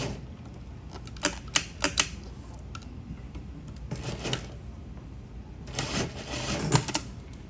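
A sewing machine top-stitching a lap zipper, heard as short bursts of rapid mechanical clatter with quiet gaps between them, moderately close and fairly faint, with no voices.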